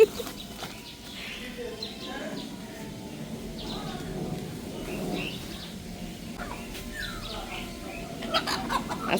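Chickens cluck and murmur throughout amid a busy outdoor background, with people talking nearby; faint bird calls surface now and then.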